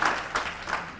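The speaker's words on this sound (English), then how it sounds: "Yeah, you can clap that up." A State of the City audience gives a short, faint patter of applause, soft and somewhat distant, rising and falling in small swells for about a second.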